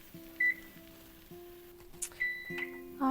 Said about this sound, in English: I'm going to set the timer for 1 minute for the second side.